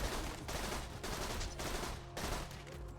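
Rapid bursts of gunfire from a Borderlands 2 firefight, sustained and dense with brief gaps between volleys, loud and close throughout.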